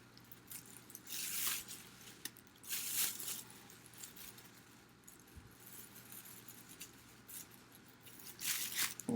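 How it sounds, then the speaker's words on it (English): Scissors cut the handles off a plastic Publix grocery bag, giving a few faint, brief bursts of crinkling and snipping spaced out against quiet room noise. "first thing I'm going to do is cut off the handles."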